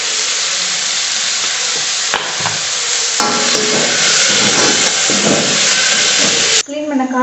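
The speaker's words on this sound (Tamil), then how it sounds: "தக்காளி நல்லா வதங்குறதுக்காக கொஞ்சம் போட்டுக்குவோம்." Tomatoes sautéing in a hot pan for a mushroom dish, a loud continuous sizzle and hiss with stirring scrapes throughout, ending abruptly.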